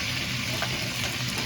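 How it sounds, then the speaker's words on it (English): Jerk oxtails sizzling and browning in a hot pan, a steady, close frying hiss with faint crackles throughout the short stretch, no voices. "Yeah, it's sizzling now."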